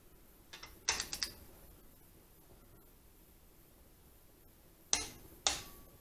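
A torque wrench tightening the cylinder head bolts on a Honda D16Y7/Y8 engine, giving short sharp metallic clicks in two brief bursts separated by quiet.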